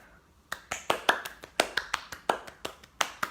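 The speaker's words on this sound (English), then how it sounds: "I think we all deserve a round of applause." A small group gives a short round of applause after finishing a reading, about a dozen distinct, fairly sparse claps spread over three seconds, close and moderately loud with a brief quiet start.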